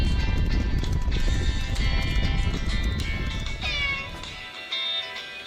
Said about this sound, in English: a cat can mew, yes, a cat can mew